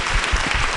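Audience applause at the close of an afternoon lecture on creating innovators, a short steady burst of many hands clapping, fairly loud and dense, with no talk over it.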